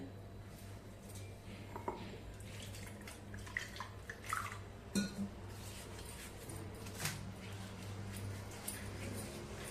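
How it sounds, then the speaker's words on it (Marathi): Water splashes and trickles over a new stone mortar and pestle as it is rinsed by hand, with soft drips and occasional clinks of stone against a steady background hum, fairly quiet throughout. "आपण थोडस पाणी ह्या खलबत्त्यावरती घालून चांगला आधी धुवून घेऊया"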